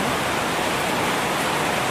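Rainwater rushes steadily through a drainage canal after a rainstorm, a dense, even wash of flowing water close by with no breaks and no voices.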